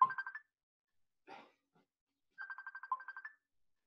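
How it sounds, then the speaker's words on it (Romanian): A telephone ringtone plays two short bursts of bright, trilling electronic beeps separated by a pause, fairly quiet, with a faint brief sound in between. "Ah, telefon."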